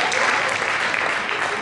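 Applause from a Sanremo Festival theatre audience during an imitation contest, a dense burst of clapping, loud and close, with some voices mixed underneath.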